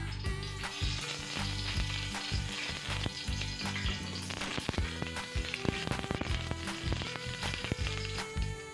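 Oil, two tablespoons, sizzling and frying steadily in a pan while sautéing begins for stir-fried sponge gourd, a dense, close crackle with a faint stirring texture underneath, with no voices.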